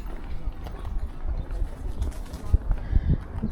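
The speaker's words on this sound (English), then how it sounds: "Standard flock of pigeons around the place." A flock of pigeons coos near an outdoor ancient ruins site, soft low throaty calls rising and falling irregularly over faint background noise, with occasional sharper bursts.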